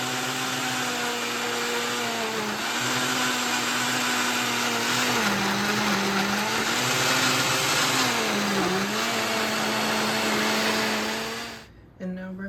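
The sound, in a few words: blender blending a smoothie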